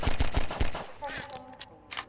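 Gunfire in the video game Half-Life 2, a rapid burst of loud shots followed by fainter game sounds and a couple of soft later pops, with some talk mixed in.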